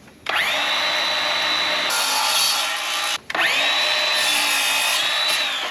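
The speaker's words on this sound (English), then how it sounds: "I'm gonna take it over my saw and cut it this way" A power saw cuts a wood casing piece in two long, loud, steady passes separated by a brief pause, each starting with a sharp rising whine.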